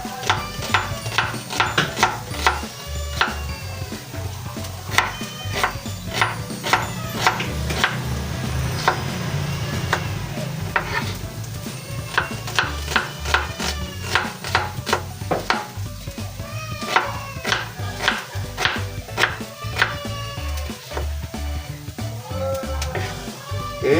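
Onions being chopped for ground pork sisig, a steady run of sharp knife taps on a board with quick rhythmic bursts, mixed with kitchen clatter and a low background hum.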